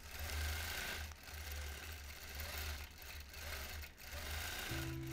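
A quilting machine stitches a freehand echo design on a quilt with a steady mechanical whir and rapid needle hum, close and continuous with brief pauses in speed.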